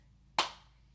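A single sharp hand clap standing alone and fairly close, marking a letter's place in a children's spelling song about a farmer's dog named Bingo.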